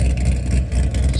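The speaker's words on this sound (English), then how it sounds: "Crack open that exhaust, let that thing breathe a little bit." A supercharged C6 Corvette exhaust blares in a loud, close, deep engine roar that swells and dips in a short burst.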